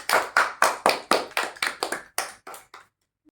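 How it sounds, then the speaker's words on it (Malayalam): A small group of friends claps together for the winner of a holiday party game, about a dozen sharp, rhythmic unison claps that grow quicker and softer before stopping, close by with no talking. "ക്ലാപ്പ് കൊടുക്കും എല്ലാവരും."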